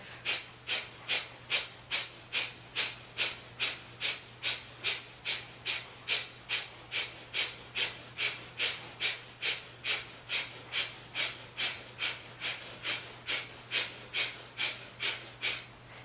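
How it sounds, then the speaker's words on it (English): Rapid, forceful breath-of-fire yoga breathing: a steady train of sharp, hissing nasal exhales pumping about twice per second, close and even, continuing without pause for the whole stretch with no talk. "Keep the breath of fire going, even if your legs come down"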